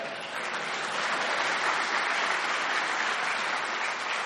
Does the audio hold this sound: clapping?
yes